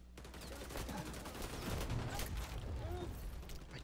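AK-47 gunfire in the video game XDefiant, a rapid run of shots and clattering mechanisms in a busy firefight, with a voice speaking over it.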